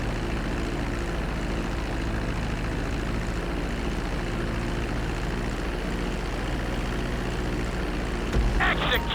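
An airplane in the GTA 5 video game comes in to land on a runway, its steady engine drone loud and continuous, with a brief sharper burst near the end.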